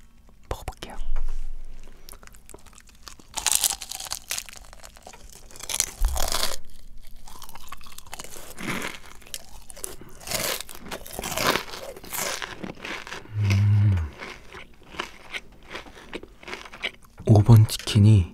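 Crispy fried chicken thigh with an olive-oil-fried coating, bitten and chewed in a series of crunchy bites close to the microphone, with soft talking and whispering between them.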